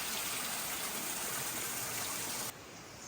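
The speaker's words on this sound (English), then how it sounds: "a little waterfall I've just noticed down here" A small waterfall near a forest campsite pours steadily in a broad, close rushing wash, loud and constant, then dips slightly near the end.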